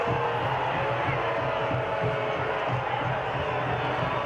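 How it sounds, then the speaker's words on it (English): Stadium crowd at a Detroit City FC versus Rhode Island FC soccer match roaring in protest after a foul, a steady, distant wash of voices and jeers without letup. "Crowd here does not like that one."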